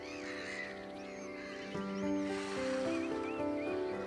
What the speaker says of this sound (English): Like this redshank